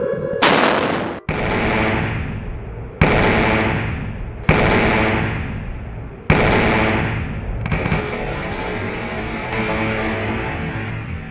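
A ship-mounted electromagnetic railgun fires in a sound effect: five sharp, loud blasts at roughly even intervals, each with a decaying roar, then a sustained rushing noise.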